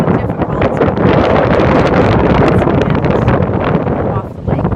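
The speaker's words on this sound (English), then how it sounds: "Not like this all the time, but we do get lots of wind." Strong wind blows off a lake, buffeting the microphone with a loud, continuous roar that stays steady throughout.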